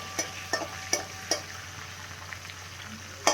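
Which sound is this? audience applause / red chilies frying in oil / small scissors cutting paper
red chilies frying in oil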